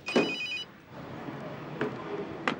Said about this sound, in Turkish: Telefon da çalıyor.